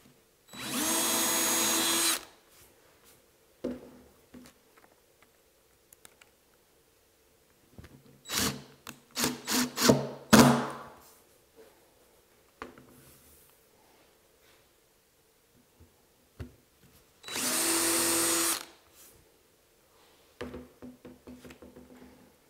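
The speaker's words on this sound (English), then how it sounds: "I'll just go ahead and reset the screws" A power drill runs in two steady bursts near the start and end, driving screws into a new assembly table top, with handling clatter and quieter knocks between them in a workshop.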